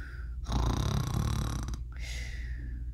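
A person imitates snoring with a long, rough, rattling inhale, followed by a breathy exhale.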